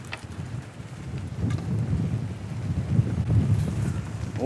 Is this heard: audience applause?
no